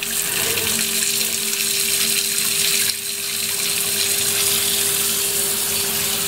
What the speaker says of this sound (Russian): открываем кран горячей воды